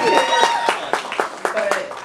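A run of steady, evenly spaced claps, about four per second, from an audience at a Clapitup LA show at the Peppermint Club, with a voice and tones running underneath.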